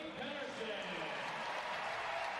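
Distant, steady roar of a stadium crowd at the 2023 USATF Championships women's 200m final, a broad wash of cheering and noise, faint and continuous with no distinct peaks.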